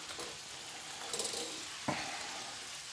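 Onions go into an omelette frying in a pan, with a steady sizzle throughout and a sharper crackling burst as they hit the hot fat near the end.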